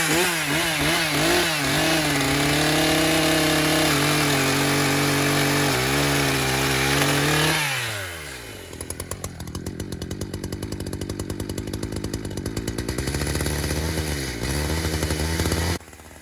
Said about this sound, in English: You can see and hear that the saw is kind of running